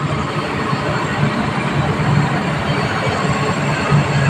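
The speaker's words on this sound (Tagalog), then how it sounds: "Under saglit yung compressor, tapos namamatay." A Fujidenzo semi-inverter aircon compressor runs with a steady, loud, dense hum and rattle, throbbing faintly throughout at close range, without any audible shutoff.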